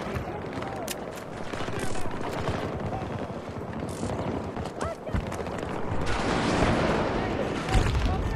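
Rapid SMG gunfire in the video game Battlefield 2042, a dense, steady rattle of shots running throughout with battlefield noise, while a voice talks over it.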